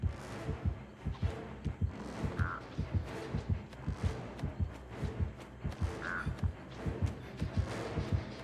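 A heartbeat sound effect in a video game thumps in a steady, close rhythmic pulse of paired beats throughout, with a couple of brief higher-pitched cues over it.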